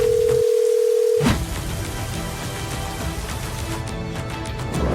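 A cartoon telephone sounds a steady dial tone for about a second, then cuts off into busy background noise as 911 is dialed during a flood emergency.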